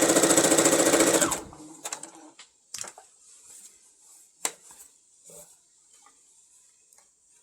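A sewing machine stitching a beginner's number design, a loud rapid run of needle strokes for about a second, then stopping, followed by scattered faint clicks and taps.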